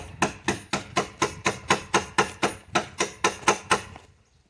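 A piece is driven all the way through a log for a log gatehouse wall. About fourteen sharp hammer blows land in a steady, even rhythm close up, then stop.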